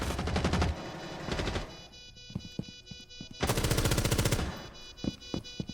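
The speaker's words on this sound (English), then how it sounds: "His recoil on Ash is purely horizontal, and he has no vertical recoil" Automatic gunfire from Ash's weapon in a first-person shooter comes in two long rapid bursts, with scattered single shots and clicks between them, loud and close, with no talk.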